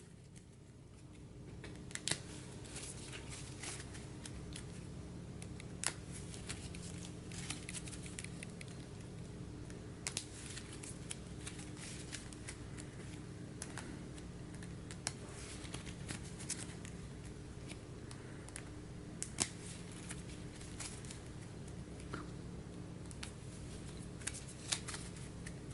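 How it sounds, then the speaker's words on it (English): A deck of cards being shuffled on a tabletop during an Arkham Horror card game, a steady run of soft riffling and patter with sharper clicks, close and fairly quiet, with no talking. "Give that a quick shuffle."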